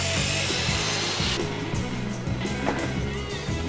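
A saw trims down a wooden table leg with a continuous, close, rasping cutting noise that pulses in a quick, regular rhythm throughout.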